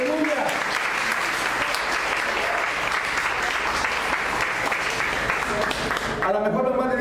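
A church congregation marking a 65th anniversary gives sustained, dense applause as an offering to God, steady and loud for most of the stretch before a voice begins near the end.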